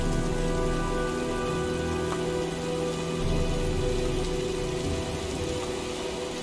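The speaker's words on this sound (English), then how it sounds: "Well, looks like a storm's coming." Steady heavy rain from a storm in the Heavy Rain video game, a dense continuous hiss of drops with a low rumbling bed, evenly loud throughout and with no voices.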